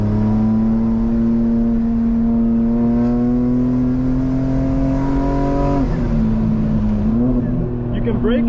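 A 2025 BMW M4 held in third gear on a race track drones with a steady, loud engine hum heard from inside the car, the pitch dipping near the end, while someone talks over it.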